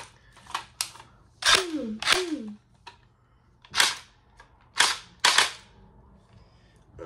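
A World War II-style gel blaster toy gun fires a string of sharp, close snapping shots in an irregular rhythm, some with a brief rising whir after the shot, with no talking.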